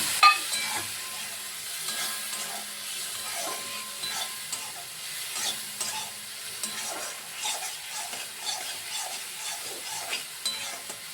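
Ground poppy seed paste being stirred in a hot pan for a mung dal and poppy seed dish. Soft rhythmic scraping strokes repeat over a low, steady sizzle, close and moderately quiet.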